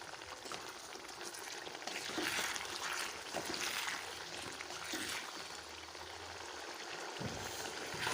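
Ground spice paste fries in oil with a splash of water for a Bengali village-style koi fish curry, a soft continuous sizzle and bubbling that stays low and steady throughout.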